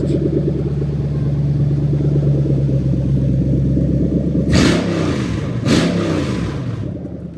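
A Lexus IS200 engine idles with a steady low rumble, then is blipped twice in quick, sharp revs during a drive-by-wire throttle test, close and loud.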